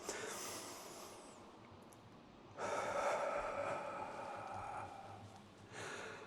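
Long, audible exhales through the breath during a shoulder and chest opening stretch, each a soft, airy rush lasting a few seconds, separated by quiet pauses.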